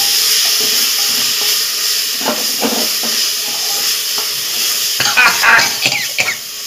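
A masala of crushed onion, ginger, garlic and green chili frying in a pan, with a steady close hiss and sizzle and a few stirring scrapes and clatters toward the end.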